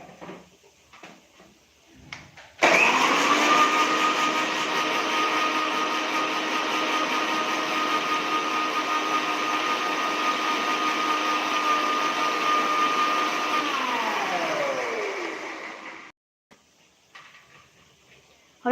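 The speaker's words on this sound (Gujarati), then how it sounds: "હવે એને આપણે મિક્સર જારમાં ફેરવી લઈએ." A mixer grinder blends garlic with water, starting abruptly after a few quiet handling sounds, then a loud steady whirring drone for about thirteen seconds that winds down as the motor stops.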